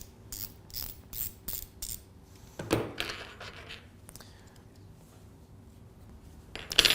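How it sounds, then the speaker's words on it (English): A torque wrench ratchets rapidly in clicking bursts while tightening screws, followed by a quieter stretch of faint mechanical rubbing and a final sharp clatter. "is using a dynamometric key in order to have the right tightening of the screw."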